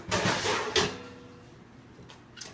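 A kitchen oven door bangs and clatters as a chicken pot pie on a cookie sheet goes in: a rough burst, a second louder clunk, then a quieter double knock after a pause.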